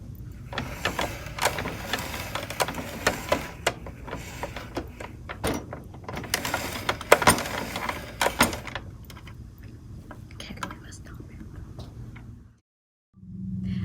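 A handheld spiralizer cranks zucchini and squash into curly pasta strands, giving a run of irregular clicking and ticking with scraping bursts, fading near the end before a brief silence and a faint return.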